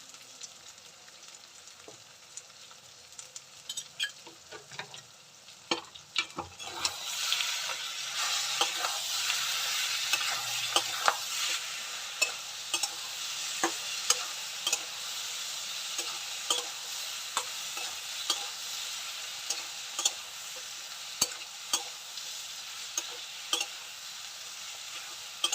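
Eggplant frying in a pan seasoned with turmeric and chili paste. A steady, close sizzle swells loudly after a quieter start, and a spatula stirs with repeated light scrapes and taps throughout.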